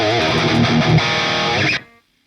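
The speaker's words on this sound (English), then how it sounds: "just having the red tone from Vadim Taranov enabled and engaged on this impulse response. This is what it sounds like" A heavily distorted electric guitar run through a red-tone amp model and an impulse response rings out in a short sustained chord burst that cuts off abruptly into silence.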